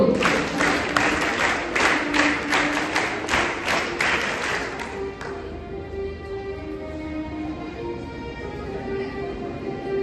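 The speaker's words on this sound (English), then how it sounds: "Scout clap, ready, go." A group claps a scout clap in a quick, steady rhythm for several seconds at a school investiture ceremony, then the clapping stops, leaving a sustained tonal hum.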